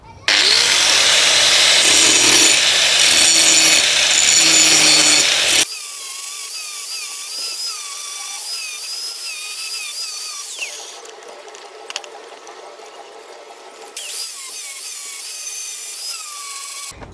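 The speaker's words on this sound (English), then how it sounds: "finally we are going to grind this part and that part so that we can now have our chipping hammer complete" Grinding on a homemade welding chipping hammer, a loud power-tool whine with scraping for several seconds, then a lighter steady high grinding tone with brief changes in pitch and level.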